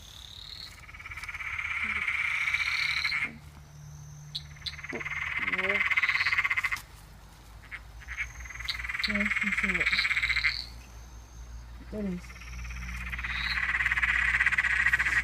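Eastern dwarf tree frogs call at night in long, loud, repeated trilling bursts that rise and fade in waves, with brief low clicks and a few quiet spoken words in between.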